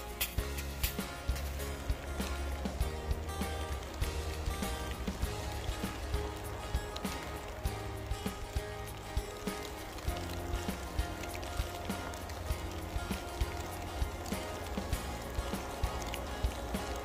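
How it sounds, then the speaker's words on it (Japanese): Rain falls steadily over an outdoor camping site as snow turns to rain, a dense, continuous pattering with frequent sharp drips and taps close by. "雪がちょっと雨っぽくなりまして"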